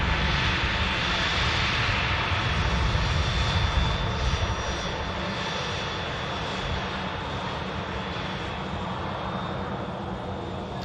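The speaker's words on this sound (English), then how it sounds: "EasyJet just arrived in from Jersey." An EasyJet airliner arriving at Manchester Airport from Jersey, heard as a loud, steady jet engine roar that fills the whole stretch without letup.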